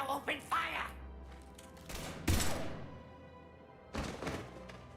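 Mass Effect 3 gunfire: a few separate heavy, booming shots ring out between stretches of in-game dialogue, with one loud blast standing out near the middle.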